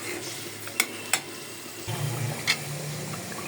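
Dried fish being sautéed in a pot with turmeric, chili and garlic paste, with a few sharp spoon knocks against the pot over a quiet sizzle that swells midway.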